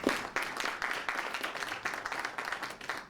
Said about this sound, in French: est-ce qu'on peut acclamer pour l'ONG,